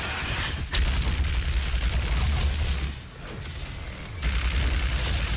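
Heavy booming blasts from rockets and missiles in the video game DOOM, roaring continuously with dense low rumble and a brief dip before the barrage resumes.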